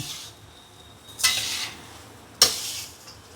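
A spoon stirs fried and roasted snack ingredients together in a bowl, giving two short, bright scraping clatters against the dish, separated by quiet pauses.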